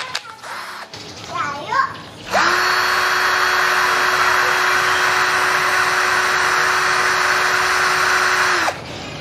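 A Worksite CD306-12L-C 12V cordless drill runs at speed setting 1, a steady high whine that starts after a few seconds of talk, holds level for about six seconds, then cuts off.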